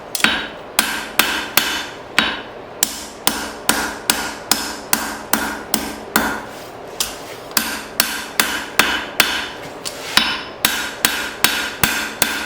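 A hammer forges an old file into a blade point, striking about thirty times in an even, rapid rhythm. The loud, ringing metallic blows sit close and clear, and nobody speaks.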